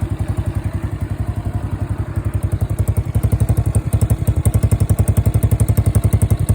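A modified Yuki Gusto 125cc scooter engine with a non-original performance air filter and altered exhaust idles close by, a loud, rapid, even train of deep exhaust pulses with a slight clatter, running alone without speech.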